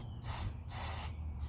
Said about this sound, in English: I'm gonna go ahead and start spraying some of this cleanup as I rotate the tire and the chain around